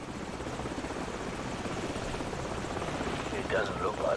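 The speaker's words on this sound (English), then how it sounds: "Hold on, the helicopter's back." A helicopter in the video game Call of Duty 4 flies overhead with a continuous, loud rotor chop and engine drone throughout, while a voice speaks briefly near the end.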